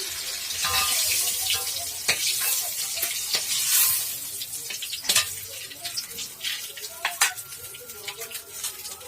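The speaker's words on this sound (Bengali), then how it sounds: "পনিরটাকে ভালোভাবে ভেজে নিচ্ছি" Paneer fries in a pan for a vegetarian dish with potato and cauliflower, a close sizzling hiss broken by sharp clatters and scrapes of a spatula.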